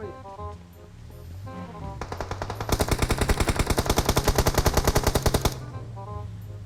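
PUBG Mobile gunfire: a long rapid automatic burst of evenly spaced shots rings out loud and close, then stops abruptly.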